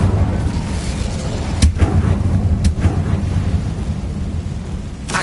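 Incendio fire spell cast in Hogwarts Legacy, a rumbling whoosh of flame with a couple of sharp crackling bursts over a steady dense roar, loud and close with no talking.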